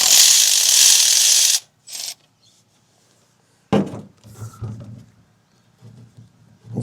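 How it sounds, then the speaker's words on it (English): A hand ratchet works spark plugs loose from the engine of an old Land Rover left sitting for decades, with a long rapid clicking run, a short burst, then several separate bouts of clicks and clunks close by. "I'm just going to pull these spark plugs out"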